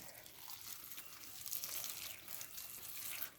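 Water from a pump gushes and splashes over potted orchids, including young plants grown out of flask, in a steady, faint, hissing spray with no talk.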